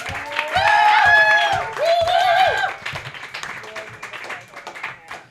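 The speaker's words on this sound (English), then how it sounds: "Please clap it up. Give him a hand." An audience at a live roast battle comedy show applauding and clapping for an incoming comic, with strong cheering and shouting mixed into sustained clapping that fades down while a host talks over it.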